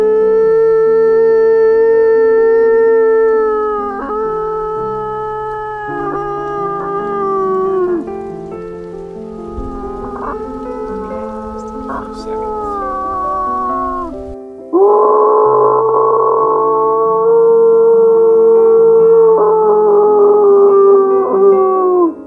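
A man imitates a wolf howl outdoors in Yellowstone, giving long, sustained rising and falling wails that are loud and close, with a second, stronger howl breaking in midway and carrying on to the end.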